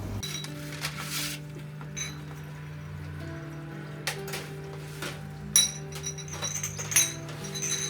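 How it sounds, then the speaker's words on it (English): Twelve glass jam jars of varying sizes knock together in a kitchen, producing sparse, bright clinks scattered over a low steady hum, with a couple of sharper taps toward the end. "So we've got 12 jam jars, hopefully that will be enough,"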